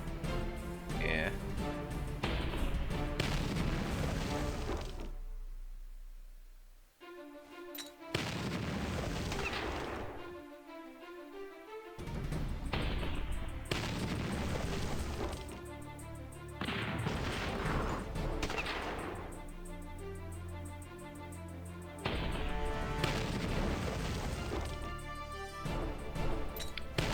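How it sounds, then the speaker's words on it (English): Grenades and rockets pounding fortress walls in the strategy game Battle Nations, a run of heavy booms and crashing impacts layered over constant game music and effects. "So, just gotta lob grenades and rockets until these walls die."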